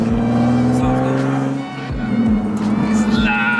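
A car with a very loud aftermarket exhaust revs hard and pulls away close by, its roar rising and falling with sharp bursts, while people talk over it.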